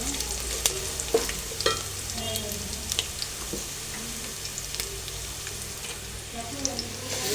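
Oil and seasonings fry in a pan for an amaranth and spinach stir-fry, giving a continuous close sizzle with intermittent scrapes and taps of the stirring spoon.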